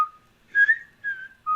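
A person whistles a TV show theme, a short clear melodic phrase of a few sustained notes, close and solo with no talking.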